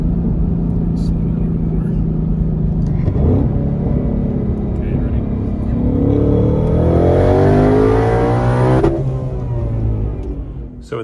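A Ford Mustang Mach 1 revs and accelerates hard in second gear, its engine note climbing loudly in pitch over several seconds before easing off, with steady road rumble underneath.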